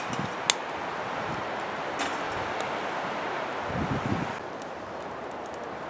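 Wind rushes steadily around a SilverFire Scout biomass backpacking stove fire outdoors, a broad constant roar with a few sharp pops and brief gusts, no voices.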